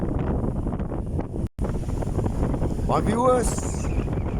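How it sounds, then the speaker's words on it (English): Strong wind on a fishing beach buffets the microphone in a constant loud rumble, with a brief dropout midway, while someone talks over it. "that wind that I was talking about, that wind guru was showing, it was going to start around about 2 o'clock, has just arrived"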